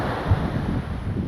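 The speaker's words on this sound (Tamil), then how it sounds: "காற்று வந்து பார்த்திங்கன்னா பலமாக வீசுது" Strong sea wind buffets a budget GRENORA P10 microphone, a steady low roaring rumble with faint surf beneath it, continuous and close.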